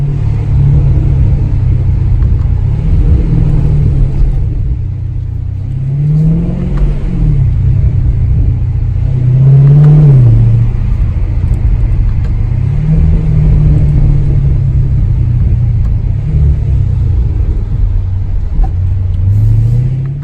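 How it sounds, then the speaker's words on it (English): A Dodge Challenger Scat Pack V8 rumbles and revs steadily for about twenty seconds, with low exhaust burbles and backfires rising and falling in loud, close waves and no talking. "You can hear some burbles, backfires."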